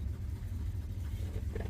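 A 1976 Ford F-150 Ranger engine idles after a carburetor adjustment, a steady low rumbling run heard up close for a brief moment with no talk.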